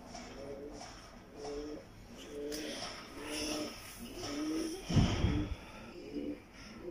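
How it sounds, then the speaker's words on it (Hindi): Pigeons shown by a breeder coo in a steady run of low, throaty, rolling calls, close and fairly clear, with a soft thump near the end. "फू निकल रही है कबूतर की आंख देख के"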